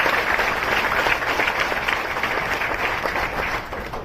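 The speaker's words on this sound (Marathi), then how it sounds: "टाळ्या त्यांनीच वाजवल्या जे माझ्या मॅचिंगचे." An audience at a speech event in Hadapsar claps together, a sustained dense wash of applause at steady, fairly loud level that tapers slightly toward the end.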